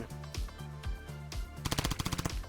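Gunfire from a gun in the zombie survival shooter game Zombie Raid: a few spaced heavy shots, then a rapid burst of automatic fire, loud and close.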